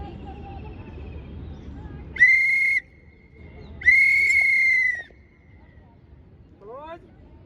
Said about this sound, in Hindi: एक छोटी सीटी, एक लंबी सीटी।